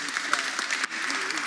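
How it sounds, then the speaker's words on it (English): An audience at a school board candidate forum applauds, a steady patter of clapping from many hands at moderate level, with some voices mixed in. "If you could give a round of applause to these candidates."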